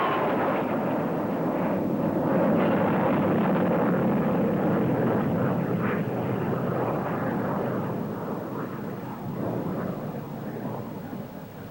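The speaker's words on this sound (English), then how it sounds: "It can do twice the speed of sound and shows off its reheat with a burst of power." An English Electric Lightning fighter jet at an airshow roars past with a reheat burst, a loud sustained rumbling jet roar that swells and then slowly fades as it moves away.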